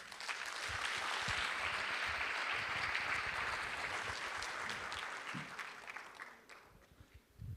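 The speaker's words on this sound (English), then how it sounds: "Let us welcome him with a round of applause." A conference audience at the Ajou International Conference applauds to welcome a virtual speaker, sustained clapping that holds steady for several seconds before fading out near the end, heard fairly faintly.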